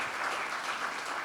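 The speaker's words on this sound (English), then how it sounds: "let's give these guys a much bigger round of applause" A conference audience applauds in a steady, dense wash of clapping, fairly loud and sustained throughout the short moment.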